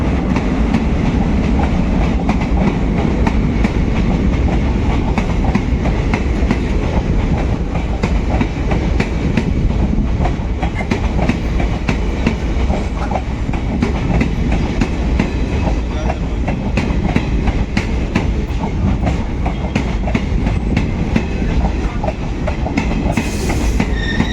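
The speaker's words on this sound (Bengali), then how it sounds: "মালদা টাউন আজিমগঞ্জ প্যাসেঞ্জার ঢুকছে এই মুহূর্তে ধুলিয়ানগঙ্গা রেল স্টেশনে" A Malda Town–Azimganj passenger train pulls into Dhuliyan Ganga station with a loud, continuous rumble and rapid clickety-clack of wheels over the rails, steady throughout and close by.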